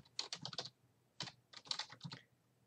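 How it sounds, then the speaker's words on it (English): Bursts of rapid keystrokes on a computer keyboard as a command is typed, close and fairly quiet, in three quick clusters separated by short pauses, no voices. "All you do is type in the same pathway that you typed in before."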